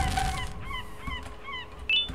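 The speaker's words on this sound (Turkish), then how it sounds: "bu martı sesi de az önceki martı sesi değildi yani" Seagull cries from the video game Garten of BanBan 2 come as several repeated, honking calls at moderate loudness, ending in a sharper squawk.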